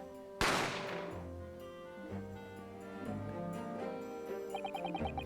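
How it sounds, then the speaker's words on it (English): Gunshot effect from The Great Ace Attorney video game: one sharp, loud blast that rings off, followed by soft background music, with no talk. "I didn't have time to think about where the sound of the gunshot had come from."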